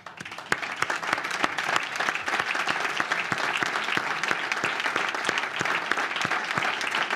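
Audience at an award ceremony applauding steadily, dense hand claps filling the hall at a loud, even level from start to finish with no voices over it.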